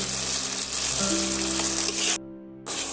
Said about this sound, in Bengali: এইভাবে করে সমস্ত আমি মশলাগুলো এইভাবে ভেজে নিচ্ছি